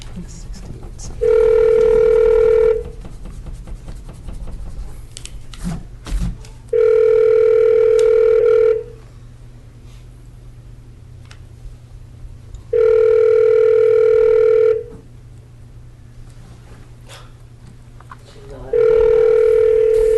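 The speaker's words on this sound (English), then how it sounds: "we're going to try calling Donna one more time" A telephone call rings out during a borough assembly board of equalization hearing: four evenly spaced, loud steady tones, each about two seconds long, separated by pauses with faint background murmur.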